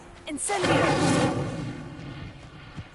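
The Incendio fire spell is cast in Hogwarts Legacy, a quick crackle followed by a loud, roaring whoosh of flame that swells for about a second, then fades into a softer hiss ending in a small thump.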